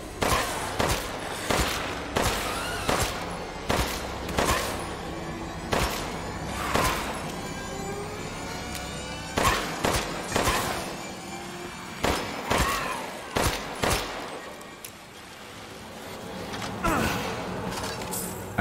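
Video game gunfire, a series of sharp gunshots in irregular bursts of single and double cracks spread over the whole stretch, fairly close, with a brief quieter gap near the end.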